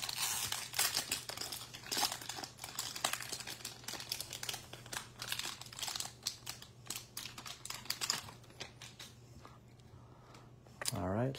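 Crinkling and tearing of a Topps Series 1 baseball card pack wrapper, with rapid dense crackles and rustles throughout and a steady low hum underneath.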